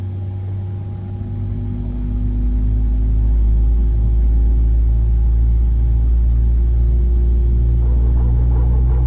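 Airbus A320neo engine 1 spooling up during start in a flight simulator sound pack, heard from the rear of the cabin as a steady low rumble and hum that swells over the first few seconds and then holds loud and constant.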